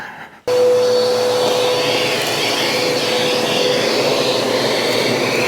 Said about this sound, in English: I'm just going to get the vacuum cleaner and vacuum that out and then wipe it.